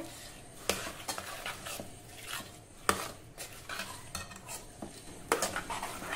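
A spoon stirs jaggery into wheat kheer in a pot, producing quiet scraping strokes broken by sharp metallic clinks against the rim at irregular intervals, close and alone.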